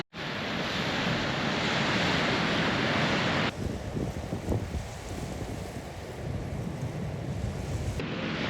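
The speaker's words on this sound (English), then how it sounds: "Yet another sensational beach. I could just sit and watch the waves for hours." Ocean waves on a beach along the Limestone Coast near Beachport, a loud continuous roaring wash of surf mixed with heavy wind buffeting, with no voices.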